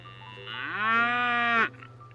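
A cow gives one long, steady moo that swells and then cuts off sharply, heard alone at moderate distance against a quiet background.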